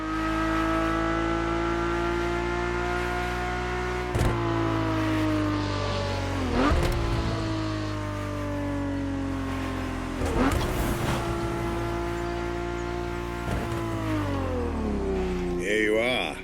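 A Ferrari engine revs loud and steady in the racing game The Crew Motorfest, holding high and sweeping its pitch up and down, with sharp shifts near 4, 6.5, 10.5 and 13.5 seconds and a game voice talking over it.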